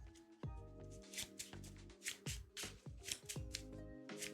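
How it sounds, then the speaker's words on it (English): A deck of game cards being shuffled by hand for Arkham Horror: The Card Game, a rapid series of quiet riffles and snapping card flicks in a loose rhythm, close and faint. "let's shuffle our deck up"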